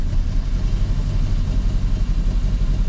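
A 1977 VW Passat TS engine idling steadily, a loud, close, continuous low rumble with an even throb and no talking.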